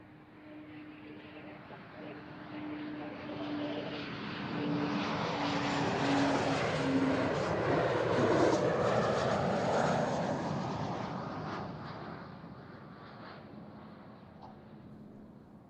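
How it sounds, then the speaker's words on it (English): A passenger plane coming in to land at Amsterdam Schiphol Airport roars in and swells to a loud peak overhead before fading, while people talk faintly in the background. "all the short European flights are coming in"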